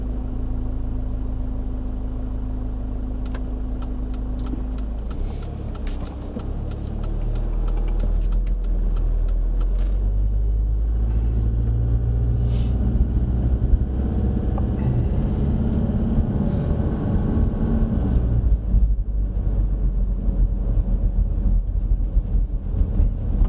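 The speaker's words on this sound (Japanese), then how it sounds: "とりあえずエンジン音なんかも聞いていただければと思いますね" Camper van engine pulling away and driving, a steady loud low rumble that rises as it gets moving, with clicks and rattles inside the cabin and no talk.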